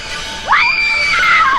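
A woman in a 1990 slasher horror film lets out a single loud, sustained scream that rises sharply and then holds high for about a second before trailing off.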